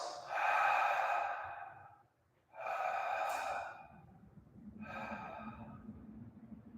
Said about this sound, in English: So inhale and exhale in 3 parts.